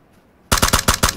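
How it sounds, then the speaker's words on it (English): Rapid automatic gunfire in a first-person shooter video game, a loud burst of about six close shots in quick succession after a brief quiet moment. "He's shooting through walls."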